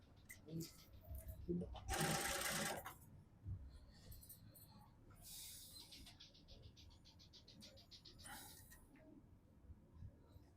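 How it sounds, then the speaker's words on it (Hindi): A sewing machine runs in short, loud bursts while stitching the cuff of a garment, with quieter pauses and handling noises between runs and a voice talking faintly in the gaps. "यहाँ से कफ की सिलाई शुरू करनी है आपने"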